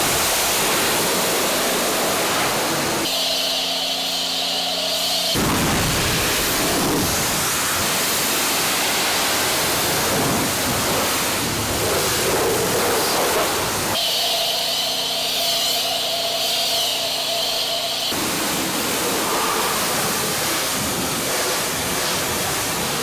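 Pressure washer spray hitting a big rig truck while blasting off a motor oil spill, a steady loud rush of water with two harsher bursts as the jet strikes metal up close.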